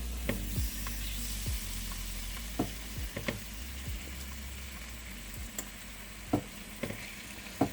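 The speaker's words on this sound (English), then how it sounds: "So my pan is nice and hot, so I'll just add the salmon." Salmon sizzling as it goes into a hot pan, a soft steady frying hiss with occasional sharp taps and knocks of the pan or utensil, close but fairly quiet, no voices.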